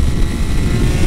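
A Triumph Speed Triple 1200 RS three-cylinder motorcycle engine runs with a dense, continuous low rumble, close and loud throughout a brief burst with no talk.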